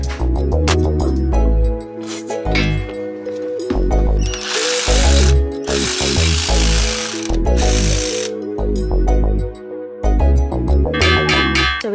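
A ratchet wrench loosening a control arm bolt on a 2023 Toyota GR86, with repeated loud clicking bursts broken by pauses, up close and without talk.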